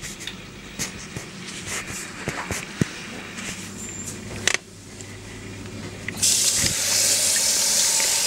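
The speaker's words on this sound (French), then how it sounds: "On les rince à la main, on a à peu près 30 secondes." Black olives being rinsed by hand under running water while preparing a veal blanquette: scattered drips and splashes at first, then a louder, steady gush of tap water in the final seconds, with no talking.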